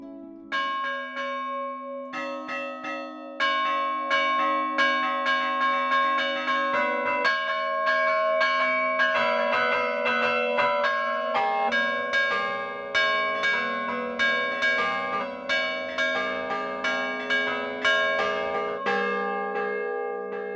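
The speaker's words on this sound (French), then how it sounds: "Les bras et les jambes du carillonneur sont reliés à 4 cloches, autant de sonorités différentes." Carillon bells ring out in a steady, resonant melody, many struck notes overlapping and sustaining for a long, unbroken passage, played by a carillonneur's arms and legs linked to four bells in the Alpes-Maritimes.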